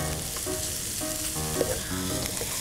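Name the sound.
garlic sizzling in a pan as soy sauce is added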